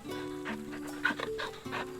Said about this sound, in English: Torgal needs love.